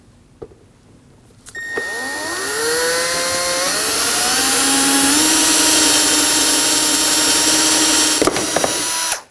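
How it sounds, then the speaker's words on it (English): A power drill bores out the centre of a rivet holding the front license plate bracket on a 2015-2022 Chevrolet Colorado, whining up to speed and grinding steadily and loudly close by for about seven seconds before stopping. "We'll go ahead and drill out the very center."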